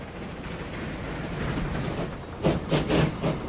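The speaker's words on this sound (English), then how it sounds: "Here comes the train." A train pulls into a station in the Transport Fever 2 rail game on a UK passenger line, a steady rumbling roll building up, then a run of sharp rhythmic clacks near the end, with no talking.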